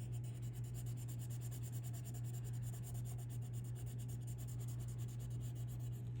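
A Prismacolor Premier colored pencil rubbing on paper gives a faint, continuous scratchy stroking texture under a steady low hum, with no talking.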